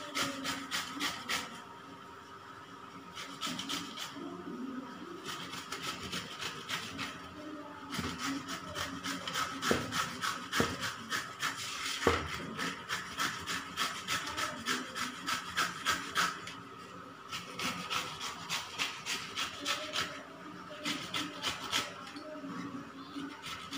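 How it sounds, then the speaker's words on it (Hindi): Bottle gourd (lauki) being grated by hand for halwa, a steady rhythmic rasping of repeated strokes against the grater, moderately close with no talking. "अब हम लौकी को अच्छे से कद्दूकस कर लेंगे।"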